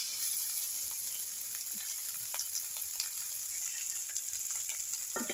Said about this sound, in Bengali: এখানে আমার চিংড়ি মাছটা ভেজে নিচ্ছি